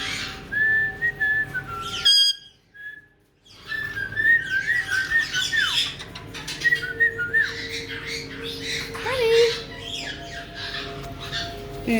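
Pet parrot-type birds give loud, near whistles and harsh squawks in bursts, with a short silent gap early on, then busy overlapping calls and chirps.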